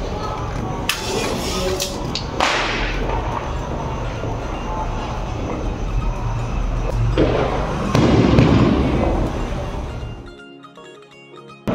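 Diwali firecrackers go off in a Punjab city during the festival, with sharp bursts and a dense, continuous roar of distant and nearby crackling that runs for about ten seconds before dropping to a quieter background.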